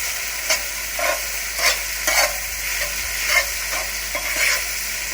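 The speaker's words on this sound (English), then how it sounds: "Keep frying, keep it moving." Lamb keema with chopped green chilies frying in a pan, a steady sizzle under repeated scraping stirs at close range, with no talking.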